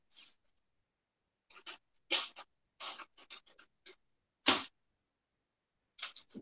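Knife slicing through gender reveal cookies: a series of short, sharp scraping cuts in irregular bursts, close and fairly quiet, with silent gaps between strokes and no talking.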